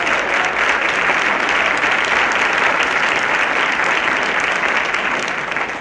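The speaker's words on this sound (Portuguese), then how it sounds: "vou até uma salva de palmas aí" A sustained round of applause, many hands clapping in a thick, even roar that stays loud and steady and only eases slightly at the end.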